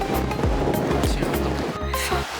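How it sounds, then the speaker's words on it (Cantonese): Strong gale blowing along the seafront near Melbourne, with surf breaking close by; a loud, continuous buffeting roar with repeated gusty surges across the whole stretch. "超級大風啊！"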